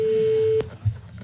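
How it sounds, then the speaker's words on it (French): A single telephone ring tone sounds over a line, one steady electronic tone that cuts off abruptly, followed by a faint click and quiet. "Qu'une seule sonnerie."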